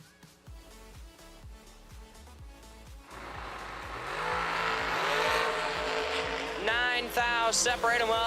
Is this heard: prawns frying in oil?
no